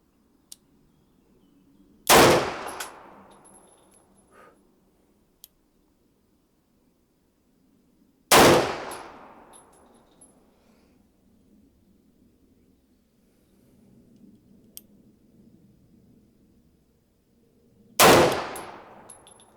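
Three loud, sharp pistol shots from a TT33 Tokarev firing PPU Partisan ammunition, spaced several seconds apart, each with a short ringing decay, with quiet room tone between them.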